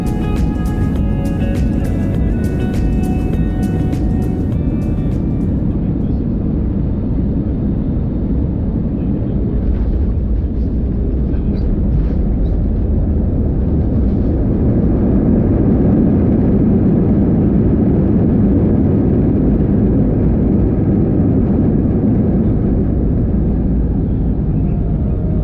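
Inside the cabin of a Lufthansa Airbus A320 landing at Düsseldorf, a loud, continuous engine and airflow roar builds and rumbles through touchdown and rollout.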